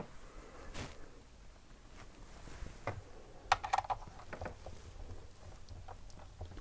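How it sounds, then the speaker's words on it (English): Four screws being removed from a Mac Classic II holding its CRT, heard as faint, scattered clicks and small scraping rattles, with a brief cluster of sharper ticks midway over a quiet background. "we're going to remove 4 screws holding it in place"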